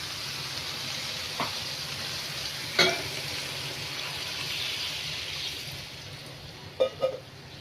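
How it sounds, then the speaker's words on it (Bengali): Broth poured into a pan of frying spices and boiled potatoes in oil, giving a steady close sizzle with a few scraping stirs and clinks over the continuous frying hiss. "এখন আমি ঝোল দিয়ে দিব।"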